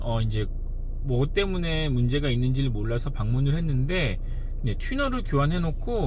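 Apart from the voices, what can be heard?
None of the usual background noises is heard.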